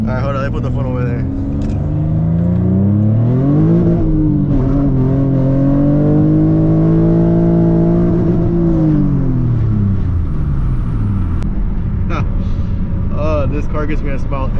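A car swapped to a 6-speed manual pulls hard through the gears on a backroad, engine note climbing loud and close, dipping at a shift, then rising again before easing off, with someone talking over it.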